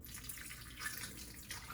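Lukewarm water poured onto yeast and sugar in a bowl while making Ethiopian dabo bread, a faint short trickle and splash heard alone.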